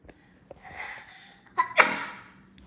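A single close, loud sneeze preceded by a sharp inhaling gasp, in a quiet room.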